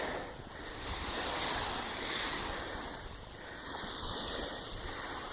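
Waves wash steadily onto the Lake Erie shore in northeast Ohio, a broad, even rush of surf with gentle swells in loudness, mixed with wind buffeting the microphone and no voices.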